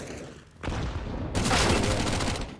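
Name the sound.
grenades exploding in Counter-Strike video game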